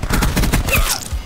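Rapid submachine gun fire in the video game Call of Duty Black Ops 4, a loud, fast burst of closely spaced shots followed by a brief ringing tail.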